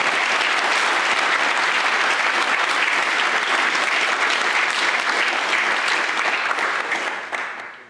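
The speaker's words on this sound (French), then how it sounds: "Et je veux qu'on les applaudisse" Large crowd at an evening political campaign rally in Rennes for Jean-Luc Mélenchon breaking into sustained, roaring applause, a thick wall of clapping that fades out in the last second.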